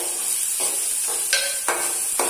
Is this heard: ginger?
yes